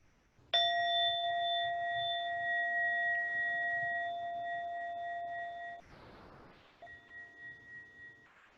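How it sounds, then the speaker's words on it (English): A single tingsha bell strike rings out clear and bright, its pure sustained tone lingering and slowly fading for several seconds in a quiet room, followed by a faint shuffle and a softer trailing shimmer. "I'm going to play one tingsha bell to bring us together, listening to the sound of the bell"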